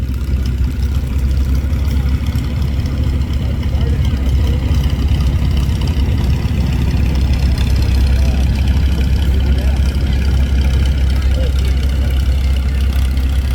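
A 1954 Super MTA Fireball tractor engine idles steadily at a parade, a continuous low rumble throughout with a faint crowd murmur in the background.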